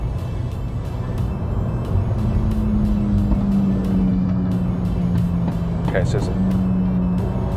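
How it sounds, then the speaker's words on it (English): Inside a city car driving on the road, a loud motorcycle passes nearby, its engine rising over steady road and engine noise while someone briefly speaks. "that motorbike's loud"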